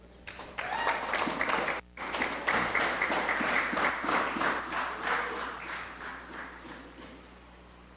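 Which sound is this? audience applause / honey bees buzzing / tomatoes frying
audience applause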